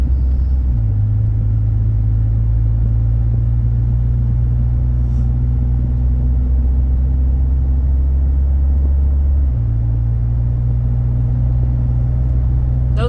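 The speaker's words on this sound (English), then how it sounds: "This has good acceleration. It's driving up this hill really well." A 2013 Ford F150 pickup climbs a hill with a loud, steady low engine drone and road rumble inside the cab, the pitch shifting down then back up as it accelerates.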